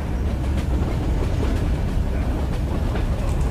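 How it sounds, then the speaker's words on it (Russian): A train rumbles past in the video game Wolfenstein II, a steady loud roar with faint rhythmic clicking from the wheels, continuous throughout with no voices. "Сейчас это поезд будет проезжать."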